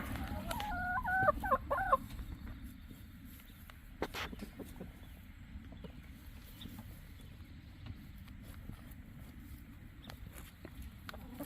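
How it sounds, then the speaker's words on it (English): Wyandotte chickens cluck and call in a quiet outdoor setting, a few scattered clucks and a short crowing phrase early on, faint, with soft ambient patter between. "The birds are singing."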